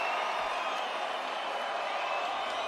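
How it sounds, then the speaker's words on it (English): A boxing arena crowd after the Devin Haney vs Vasiliy Lomachenko fight keeps up a steady, roaring wash of cheering and noise from a distance. "Vasiliy, you hear the crowd, the respect they have for the effort"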